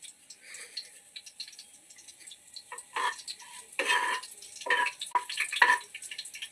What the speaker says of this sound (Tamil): கடுகு பொடியுது.